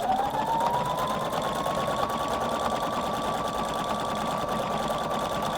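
A Husqvarna Viking Designer Brilliance 80 sewing machine stitches continuously with a fast, even mechanical whir and a rising motor whine, close and steady, with no voices.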